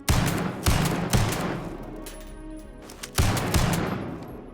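Starfield's Roger 45 weapon mod fires with a pump-shotgun projectile sound, giving loud, booming blasts in a rapid series, then a short pause and another heavy shot, with no speech.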